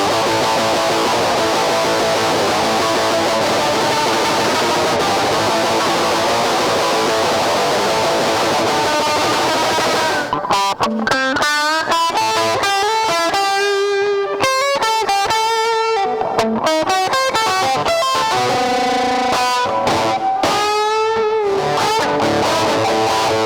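A dense wash of swirling, modulated reverb gives way to distorted electric guitar notes and chords through a ZVEX Instant Lo-Fi Junky pedal, heavily processed and lo-fi, loud and continuous.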